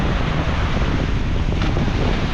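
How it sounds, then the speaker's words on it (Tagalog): Big sea waves driven by strong wind, a loud, dense and continuous roar of surf and gusting air buffeting the microphone, with no pause. "Kaya mayroong alon, malalaki yung alon"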